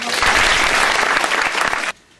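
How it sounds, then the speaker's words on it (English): Audience applause at the Ingeborg Stoermer Hausbarn dedication ceremony in DeWitt, Iowa: a steady, dense burst of many hands clapping that holds for nearly two seconds, then cuts off abruptly to near silence. "Let's give them all a round of"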